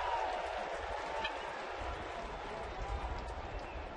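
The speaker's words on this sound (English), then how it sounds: "about as sarcastic an applause as you're going to get from a crowd in Cincinnati" Faint, scattered applause rises from a baseball crowd in Cincinnati, distant and thin under a steady ballpark murmur.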